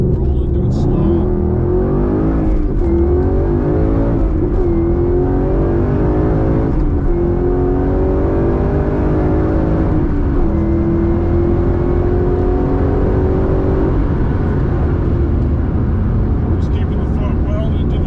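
A 2015 Mustang GT rolls on slowly from about 2,000 RPM and accelerates, its V8 droning loud and steady through rising pitch sweeps, heard up close from inside the car.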